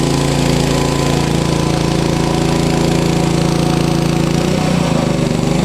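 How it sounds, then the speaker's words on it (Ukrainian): A KEMAGE KM5000io inverter generator runs loud and close with a steady engine drone, its pitch shifting near the end as the power output changes stage. "Зараз ми знову зменшуємо потужність, вмикаємо першу ступінь."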